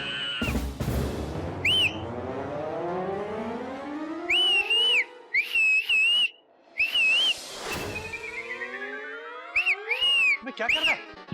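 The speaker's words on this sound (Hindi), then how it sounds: "सीटी मार रहा है, लड़की को देख के सीटी मार रहा है।" A man whistles repeatedly with his mouth in a comedy sitcom scene, short sharp rising and wavering bursts scattered among loud comic sound effects and descending whooshes, with no talking.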